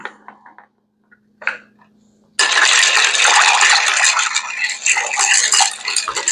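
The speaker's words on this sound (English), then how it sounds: "I'll go ahead and stir that up" Ice rattles and clinks in a glass as an Old Fashioned with aromatic bitters is stirred, a few light taps first, then a continuous bright rattling churn for several seconds.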